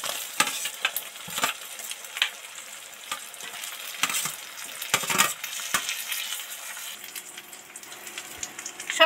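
Fried vegetables for shukto tipped into a kadai of sizzling fried spices and stirred, with scattered clinks and scrapes of the spoon over a soft frying hiss, close and alone.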